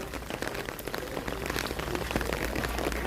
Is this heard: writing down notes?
no